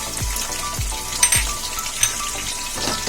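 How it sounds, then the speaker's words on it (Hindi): Onions shallow frying in hot oil over a medium flame for a mutton potato fry, a loud close continuous sizzle with a few low thumps and sharp spatter pops. "प्याज को ज्यादा फ्राई नहीं करना है, एकदम शैलो फ्राई कर लेना है"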